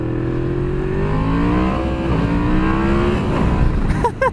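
A Yamaha MT-10 motorcycle engine revs loud and close through a series of downshifts, rising and falling in pitch with a deep muscle-car growl, blipping sharply near the end.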